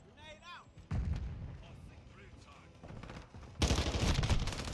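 A grenade blast in Modern Warfare 2 lands as a heavy boom followed by a loud, sustained burst of gunfire and explosion noise, after a radio voice line and under game chatter.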